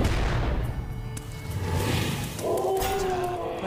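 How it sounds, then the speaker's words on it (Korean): An explosive trap goes off in a Hearthstone match, a booming blast with crackling bursts followed by a rising tonal chime, loud and layered over game noise. "폭발의 덫."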